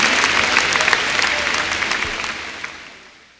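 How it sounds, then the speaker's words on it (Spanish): Church congregation applauds to welcome a preacher at a morning service, a dense wash of clapping that holds steady and then fades away toward the end. "Vamos a recibirlo con un fuerte aplauso en esta mañana."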